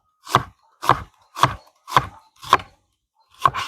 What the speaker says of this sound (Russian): Крупно нарезаем одну луковицу.